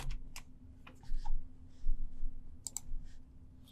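A computer mouse clicks a handful of times at close range on a desktop, sharp isolated clicks with short gaps and a little keyboard-like tapping, over a faint background hum.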